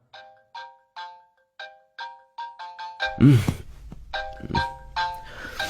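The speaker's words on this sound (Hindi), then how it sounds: "फोन लगाओ उसे फिर से" A phone ringing in a Hindi-dubbed South Indian movie as a call is placed: about ten short, evenly spaced electronic ring tones, then a burst of louder, noisy sound.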